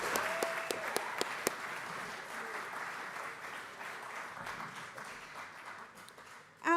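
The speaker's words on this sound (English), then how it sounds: "Give her another round of applause." Applause from the audience at a landscape architecture awards ceremony, a sustained round of clapping with a few louder close claps near the start, carrying on steadily at moderate volume.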